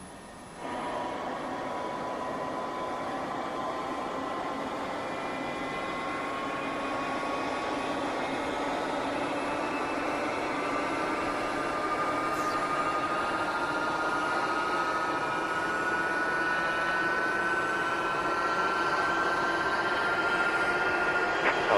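Tu-154 jet engine spooling up during a start in the X-Plane 12 flight simulator, a rising whine with tonal lines that climb slowly over a steady roar, continuous and moderately loud, no talk.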